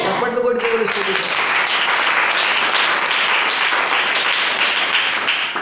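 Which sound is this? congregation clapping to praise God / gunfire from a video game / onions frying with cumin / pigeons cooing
congregation clapping to praise God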